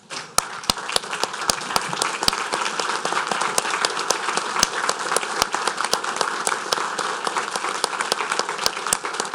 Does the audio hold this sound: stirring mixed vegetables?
no